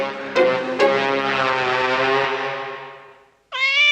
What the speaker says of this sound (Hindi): बिल्ली तुम्हारे घर में घुसकर आती है और तुम्हें डराती है